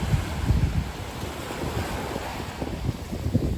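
Indian Ocean surf washing onto the beach at Ao Nang, Krabi, on an overcast day, a steady rushing wash of waves with gusty wind buffeting the microphone throughout, no voices.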